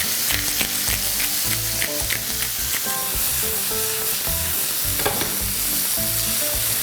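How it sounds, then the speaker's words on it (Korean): Pork sizzles steadily in a pan over medium heat while it is stir-fried, with a continuous close crackle broken by repeated scraping and clacking strokes of a utensil against the pan, and no one speaking. "지금 천천히 볶고 있습니다"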